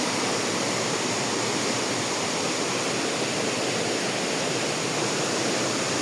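The Sonjha Kuna waterfall roars in a steady, dense rush of falling water. It continues unbroken and fairly loud for the whole stretch, with no voices.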